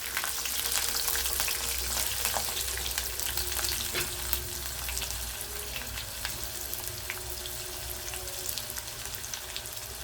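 About ten garlic cloves frying in oil with dried red chillies for kara chutney: a dense, even crackling sizzle that holds steady at close range, with no voices.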